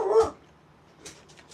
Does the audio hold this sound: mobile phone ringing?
no